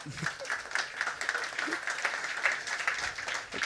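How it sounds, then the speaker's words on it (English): An audience claps together in sustained applause, a dense crackle of many hands that holds steady for several seconds. "Please give him a round of applause."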